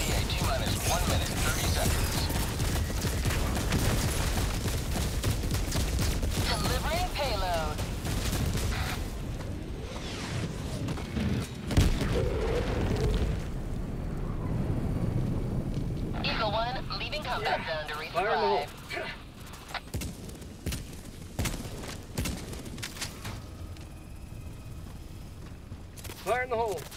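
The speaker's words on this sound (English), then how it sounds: "Firing orbital barrage. Clear the area." Orbital barrage strikes in the Helldivers 2 video game land as a rolling chain of heavy explosions and crashing booms, with scattered gunfire and whooshes between blasts and game voices calling out over the chaos.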